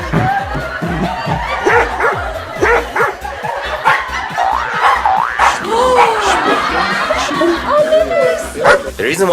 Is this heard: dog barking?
yes